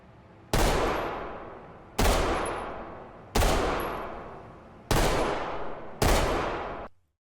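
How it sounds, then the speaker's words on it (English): Five sharp reports from a TRPL less-lethal pepperball pistol in the tactical shooter Ready or Not, fired singly at roughly one-and-a-half-second intervals, each loud, close and trailing off in a long decaying tail. "TRPL less lethal pepperball pistol"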